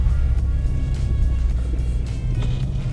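A Subaru WRX is driven hard through a corner on snow, with a loud, steady engine and road rumble filling the whole stretch and no talking.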